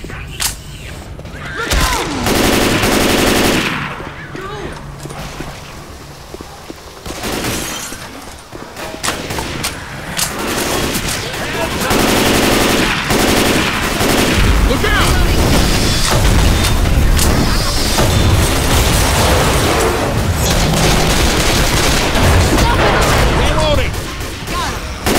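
Hunting rifle gunfire in the zombie shooter Left 4 Dead: loud, repeated shots and booming impacts keep coming through dense game noise, with players' voices talking over the action.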